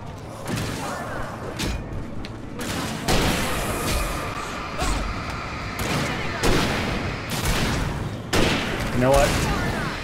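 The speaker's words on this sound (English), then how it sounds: "Then use that flare gun." Flare gun fired in the video game Alan Wake, with repeated sharp bursts and booming reports over a dense layer of game noise, heard up close and loud.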